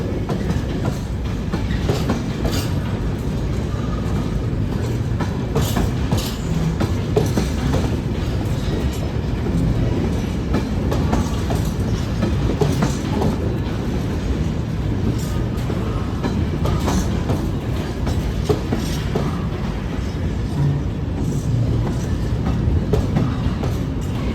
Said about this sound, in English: Yeah, that's a long train.